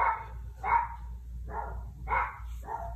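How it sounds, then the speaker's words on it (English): Several dogs bark indoors at a moderate distance, giving five separate woofs in a loose rhythm over a low background hum. "oh, hello doggies."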